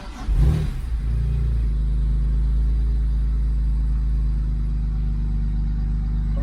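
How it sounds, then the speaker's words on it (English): A BMW 335i with a new coil pack upgrade cranks over and starts, then settles into a steady, loud, close idle rumble with no talk over it. "I'm gonna go ahead and start the car."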